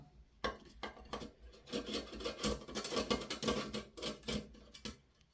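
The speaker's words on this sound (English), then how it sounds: "we're going to take this rail off. For that, you're going to need a flathead screwdriver" A flathead screwdriver works the rail screws loose on a Tokyo Marui MK18 airsoft rifle, giving close, scraping, gritty turns with small ticks and clicks in uneven bursts, fairly quiet.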